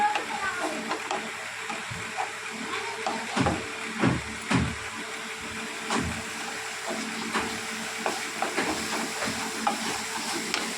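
Fried onion with ginger garlic paste sautéed in a pan for fish curry, a continuous sizzle broken by repeated scraping and stirring strokes, close and moderately loud.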